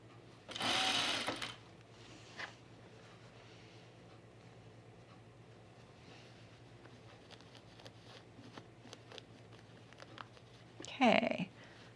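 A sewing machine runs a gathering stitch along a blouse seam allowance in two short bursts of fast mechanical whirring, one near the start and one near the end, with quiet handling sounds between and faint talk.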